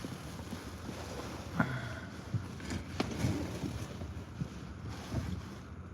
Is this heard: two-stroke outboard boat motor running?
yes